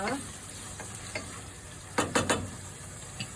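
Shrimp cooks in palabok sauce for pancit palabok while a utensil stirs it, giving a low steady simmer with a few brief scraping clicks near the end.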